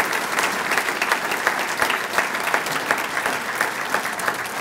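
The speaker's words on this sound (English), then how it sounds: "How about one more big round of applause for the newest members of the Hall of Fame?" A large audience applauds steadily for new inductees at a university athletics Hall of Fame ceremony, a dense, even wash of clapping that holds at full strength throughout with no one speaking.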